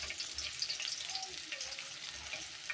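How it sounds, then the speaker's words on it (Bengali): Two banana slices fry in a pan with a continuous soft sizzle and crackle, moderately close and fairly quiet, with faint clinks of stirring. "তো 2টা কলা ভেজে দিলাম"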